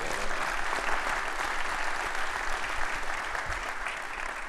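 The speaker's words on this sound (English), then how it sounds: "Also, huge round of applause to them." A crowd at a Rust programming gathering gives a sustained round of applause for the This Week in Rust team, a thick continuous roar of clapping at even loudness throughout with no talk over it.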